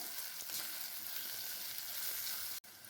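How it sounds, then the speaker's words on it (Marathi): Onion, garlic and ginger stir-fry over a high flame for veg fried rice, making a dense, loud sizzle close up. A brief break comes near the end. "गॅसची फ्लेम मोठीच ठेवून याला एक मिनिटभर परतून घेऊया"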